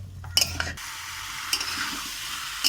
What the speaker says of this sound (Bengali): 2-3 মিনিট ভালো করে এইভাবে নাড়াচাড়া করে ভেজে নিয়ে কষে নিয়ে জল ঢেলে দেব।